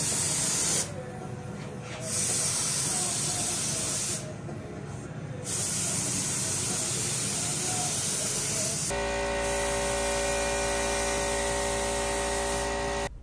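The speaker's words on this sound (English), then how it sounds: "we should be able to spray some black here in just a minute" Spray gun hissing in long bursts as black paint goes onto the tube front end of an 1800hp Camaro build, several sustained sprays with short pauses, close and loud, ending in a steady tonal hum.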